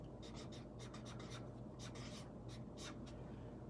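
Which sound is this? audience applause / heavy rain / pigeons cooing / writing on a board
writing on a board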